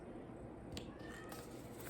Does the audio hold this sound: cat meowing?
yes